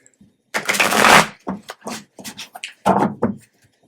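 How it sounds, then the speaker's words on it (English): Tarot cards shuffled by hand in several bursts of riffling and sliding, one long rustle followed by shorter flicks, close and fairly loud with no talking. "I get to shuffle and cut for you."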